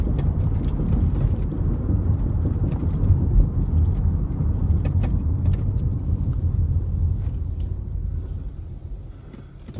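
Dodge Caravan minivan driving on the road, a close, loud low rumble of engine and tire noise holding steady, then easing off toward the end.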